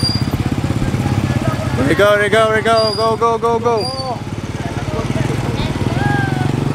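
A motorcycle engine runs steadily in the foreground throughout, with people talking and shouting loudly over it.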